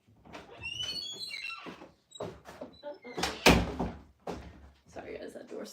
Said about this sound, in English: that door's so loud.